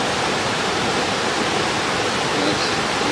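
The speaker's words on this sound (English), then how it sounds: "There's the river." A river water sound effect playing from a computer, a dense, steady hiss of rushing water filling the whole clip at constant loudness, with no voices.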